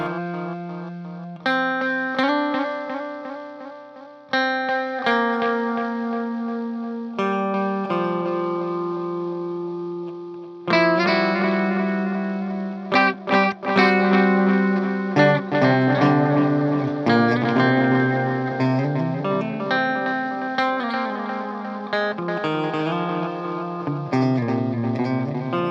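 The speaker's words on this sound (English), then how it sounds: "we have the time and the repeat all the way up" An electric guitar played through a Rogue analog delay pedal with time and repeat turned fully up, plucked notes and chords ringing out with long trailing echoes that overlap, loud and alone without talk.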